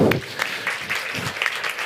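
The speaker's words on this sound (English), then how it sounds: "a big applause for ourselves" A conference audience claps in short, scattered applause, a brief patter of hands at moderate level.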